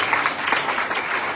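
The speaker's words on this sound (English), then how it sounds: "please give them a round of applause" Brief burst of dense audience applause at an evening devotional music event in Durban, steady and fairly close with no talking over it.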